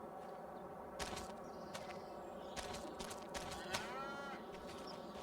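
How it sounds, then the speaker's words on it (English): Cattle mooing in the Farming Simulator 25 video game, a few moderate low calls recurring over a steady ambient farm background with faint insect-like buzzing, no talking. "I hear the cows."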